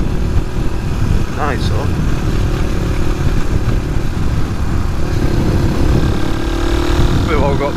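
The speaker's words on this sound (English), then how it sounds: "There's a BMW GS. It's an older one." An older BMW GS motorcycle runs with a steady mid-range engine drone close by while someone talks over it, with faint whistling chirps in the background.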